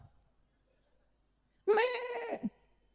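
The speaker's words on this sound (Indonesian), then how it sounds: "kambing itu kalau mengembik saja, itu ada 3 jenis embikan kambing" Single goat bleat, a loud wavering nasal cry lasting under a second and ending abruptly, close up after near silence with no speech.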